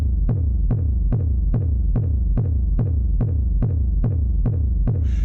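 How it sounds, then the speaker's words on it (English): A synthesized kick drum from an Elektron Syntakt thumps in a steady repeating pulse, each hit a deep, booming punch with a short decaying tail, alone and loud. "now you can hear that kick is beginning to come well into shape"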